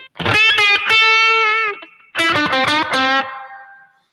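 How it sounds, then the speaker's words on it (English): Electric guitar through a Line 6 HX Stomp, with spring reverb placed before the amp, plays two gritty, overdriven phrases of sustained notes, each ringing out into a splashy spring-reverb tail. "that's kind of nice putting the reverb before the amp on the spring"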